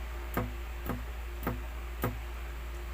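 Dead note plucks on an acoustic guitar, muted to mimic a hi-hat: four short, dry percussive ticks spaced evenly over a steady low hum, quiet with no voices.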